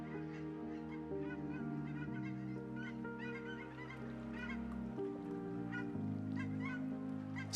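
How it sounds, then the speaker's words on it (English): Snow geese calling in a loud, continuous chorus of honks, many birds overlapping with no gaps, heard close and dense throughout. "Snow geese are known for their striking white plumage, black-tipped wings, and loud honking calls"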